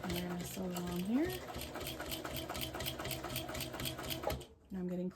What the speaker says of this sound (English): back stitch, and we're going to sew along here